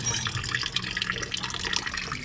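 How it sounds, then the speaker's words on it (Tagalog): Coolant water draining fast from the opened radiator of a DA64W Suzuki Every Wagon, a continuous splashing, gurgling pour heard up close with no talk over it. "mabilis ang tulo niya pagka tinanggalan natin yung takip ng radiator."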